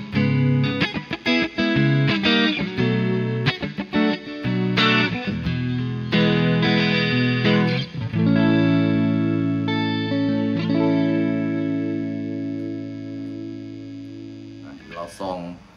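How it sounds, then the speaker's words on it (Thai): Electric guitar chords on a Sterling by Music Man Cutlass CT30 SSS, middle and neck pickups combined, clean and bright, played in bursts of rhythmic strums and then a long sustained ringing chord near the end. "ลองมาสตัมป์คอร์ดในตัวมิดเดิลเนาะตัวมิดเดิลผสมกับตัว"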